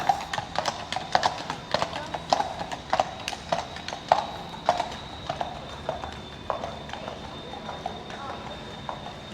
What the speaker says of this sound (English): Nice horses.